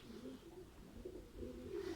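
Low, throaty cooing from a male pigeon of a teddy breeding pair repeats in soft rolling phrases, close by, with no talking.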